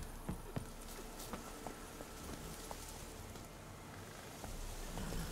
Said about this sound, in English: I'll get on my horse.